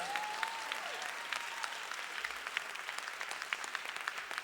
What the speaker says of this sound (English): Give this talent a wonderful round of applause again.